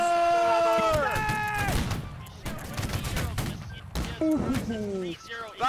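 Musket volley from line infantry in the Holdfast: Nations at War game during a line battle event: sharp, dense gunfire cracks ring out amid loud shouted commands and voices.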